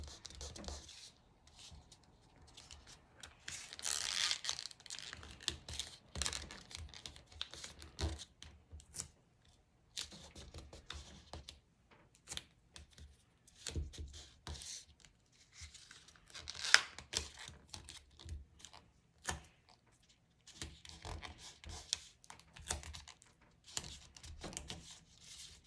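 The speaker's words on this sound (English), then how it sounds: "I'm just going to use masking tape because it sticks so fast." Masking tape pulled off the roll, torn and pressed onto cardboard for a book craft, with quiet irregular ripping and crinkling bursts spread across a fairly still, close background.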